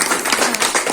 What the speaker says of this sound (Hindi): एक बार जोरदार तालियां मैम के लिए